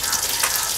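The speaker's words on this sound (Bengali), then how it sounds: "আজকে নর্মাল বেগুন ভাজা হচ্ছে।" Eggplant slices frying in a home kitchen pan give off a steady, close hiss of sizzling oil that carries through the whole short moment, with no talking.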